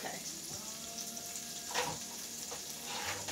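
Onions and peppers sautéing in a pan, a soft continuous sizzle with occasional stirring scrapes, fairly quiet and close.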